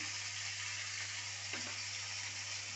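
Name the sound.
frying and stirring paneer with salt in a pan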